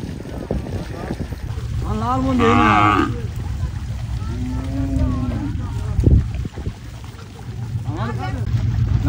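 Cattle on a river char of the Jamuna lowing in several drawn-out moos, some near and loud, others farther off, over outdoor wind noise with people talking in between.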